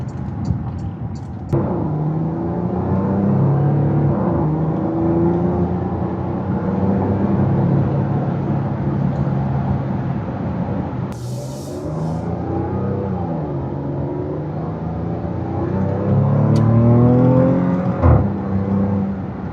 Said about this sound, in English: let's go for a quick test drive. I do have it in Sport Plus.